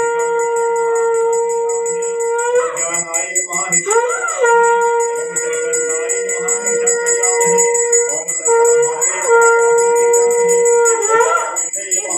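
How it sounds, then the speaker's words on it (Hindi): A priest blows a conch shell during a Hindu puja: long, loud, steady horn-like tones with a wavering bend between blasts, repeated in several sustained calls with faint chiming in the background. "शंख बजाते हुए पंडित जी।"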